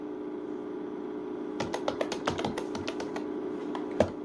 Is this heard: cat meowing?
no